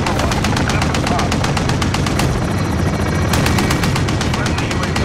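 A helicopter gunner in a video game fires a machine gun in dense, rapid bursts over a constant rotor roar, loud and close throughout.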